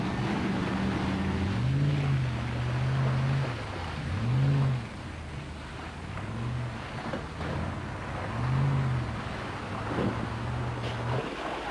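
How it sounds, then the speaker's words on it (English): An off-road vehicle drives at steady speed through deep mud, its engine droning low and continuous with gentle rises and falls in pitch, close by, with no talking. "if you steer lightly through the mud at constant speed, you will discover that the only effect on the vehicle is a mud bath"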